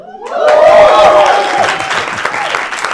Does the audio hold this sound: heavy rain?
no